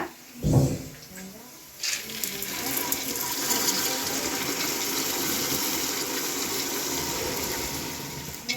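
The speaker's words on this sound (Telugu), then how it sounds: "2 చెంబులు నీళ్ళు అయితే పోస్తాను దానికి సరిపడినంత" Water runs into a pot of soaked rice and moong dal being prepared as pulagam, a steady close pour and slosh after a brief bump, continuing for several seconds with faint voices in the background.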